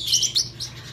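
Baby parrotlets chirp in a series of high, bright tweets, several short calls close together, near and moderately loud with no talking.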